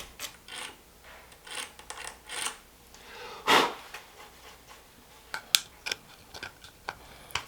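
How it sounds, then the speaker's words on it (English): Old glue residue is scraped off the surface of a broken wooden stool leg, heard as short, close, dry scraping strokes in an irregular rhythm with brief pauses and a few sharper clicks, with no talking. "Here, I'm simply cleaning the surface from any old and new glue residue."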